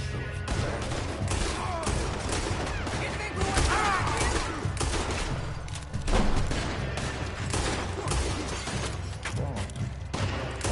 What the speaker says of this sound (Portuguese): eu sabia que ia ter tiroteio